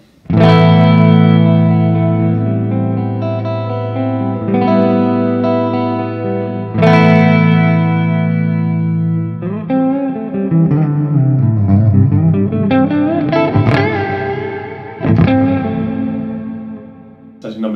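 An electric guitar plays loud, ringing chords through a Cuvave Cube Sugar effects pedal on its reverb setting, each strum trailing off in a wash of reverb, with no voices.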